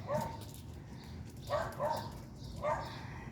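A dog barks in a backyard near a chicken coop: three short, soft bursts of barking with whimpery yips, somewhat distant and faint against quiet outdoor background.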